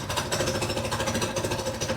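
A two-seater off-road go-kart's small engine idles close by with the choke off, a steady, rapid, knocking putter that stays even throughout.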